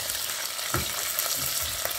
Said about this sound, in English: I let it all fry, guys. It all must fry together.